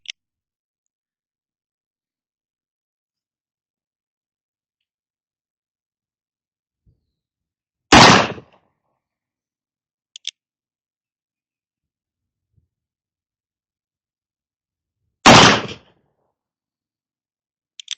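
Two sharp, loud shots from an 1873 Great Western black powder revolver, spaced several seconds apart in an otherwise quiet outdoor range setting, with faint clicks of the action being worked between them.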